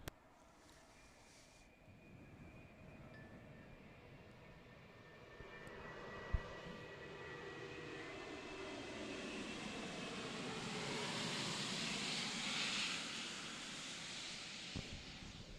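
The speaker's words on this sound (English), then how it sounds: "So big Delta aircraft hovers over on its way to John F. Kennedy for landing." A large Delta jet passing overhead on approach to JFK above a New York cricket ground, heard as a faint, distant airliner rumble and hiss that slowly swells, with a sharp click or knock partway through and no talking.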